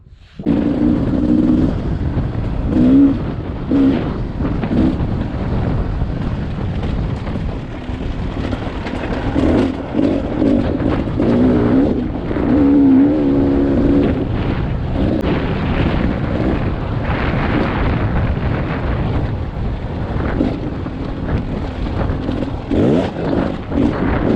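A 2019 Beta 300 RR dirt bike engine roars continuously at high revs on a single-track trail, rising and falling as it rides, buffeted by heavy wind rush against the microphone.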